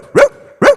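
A person imitating the bark of a pricey pedigree dog, two loud, close, deep woofs spaced about half a second apart.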